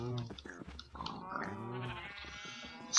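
Sheep bleat in a short run of wavering, nasal cries that overlap one another. The sound is fairly close and steady over a low background.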